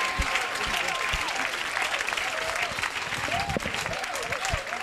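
A church congregation at an evangelical service cheers and claps steadily throughout, dense sustained applause with voices calling and ululating above it.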